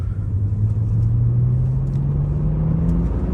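A BMW 335i accelerating hard through the gears, its engine note a loud, close rumble rising steadily in pitch with a smooth drone and no talking over it.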